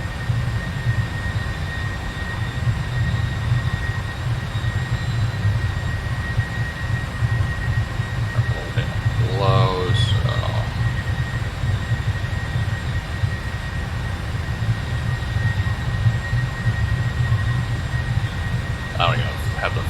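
A steady, droning Boeing 747-400 jet engine roar in a flight simulator fills the background continuously, with a brief muffled voice and some clicks partway through.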